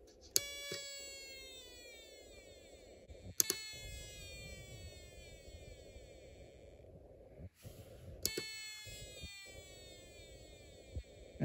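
A Snap Circuits Extreme SC-750 meowing circuit with a whistle chip added gives three slow, falling electronic meow sweeps, spaced seconds apart over a faint low hum.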